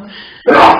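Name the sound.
sneeze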